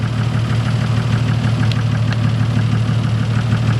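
A Toyota Supra MK3 engine idles steadily up close after its crank position sensor and MAF plugs were changed, a smooth, even rumble with no sputtering or misfires, running alone without any talking.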